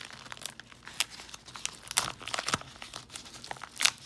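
A sealed package is torn open by hand, giving a run of crisp crinkling and tearing bursts at close range, with a few sharper rips standing out against quieter rustling and no talking.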